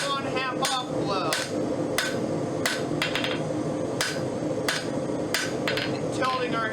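A hammer strikes the hot edge of a forged rose piece on an anvil, with half-on, half-off tilted blows that texture the metal: about ten sharp, ringing impacts at a fairly steady rhythm, close and prominent.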